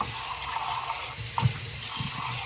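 A Jura coffee machine water filter is rinsed under a running tap: a steady, close stream of water with small splashes and gurgles as the filter is turned beneath it.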